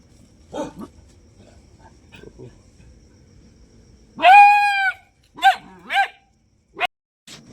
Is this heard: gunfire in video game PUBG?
no